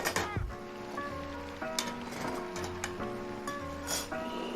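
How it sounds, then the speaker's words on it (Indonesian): Galangal, kaffir lime leaves and bay leaves sautéing in a pan give a steady soft sizzle with light stirring clicks, partly under louder background music with ringing tones. "kita tumis sampai harum"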